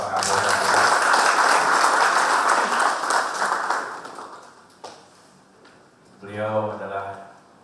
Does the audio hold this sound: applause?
yes